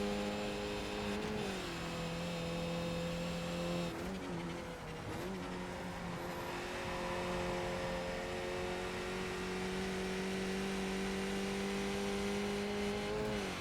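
In a racing video game, a Skip Barber Formula 2000 race car engine holds full throttle as a loud, sustained tonal whine, briefly dipping as it shifts, then climbing steadily again, with no voices.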